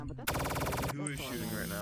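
A rapid burst of automatic gunfire in a video game, a dense stuttering rattle lasting under a second, with a voice talking before and after.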